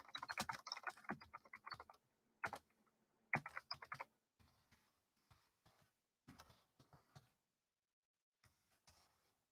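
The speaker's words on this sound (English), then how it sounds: "we're going to go here and we're going to type in" Typing on a computer keyboard, with quick clusters of crisp key clicks broken by short pauses, close and with no talking.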